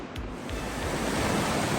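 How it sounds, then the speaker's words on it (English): Steady, broad roar of rushing water from the Elwha River in Washington, loud and continuous throughout with no pauses, like a fast river close by. "That's some rushing water down there."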